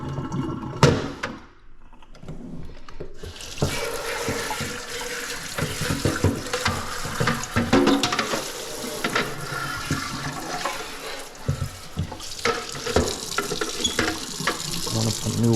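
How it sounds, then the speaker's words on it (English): Vinegar water is poured out of the water tank of a Breville Barista Express espresso machine, a continuous splashing gush of liquid lasting several seconds after a brief knock. "And we want to pour out this water here."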